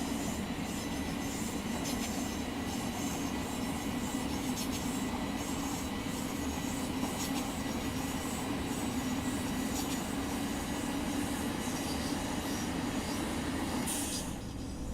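Steady electric train rumble from a video game, a 700 Class on 25,000 V AC, with a constant hum and faint rhythmic rail clicks, continuous and even throughout.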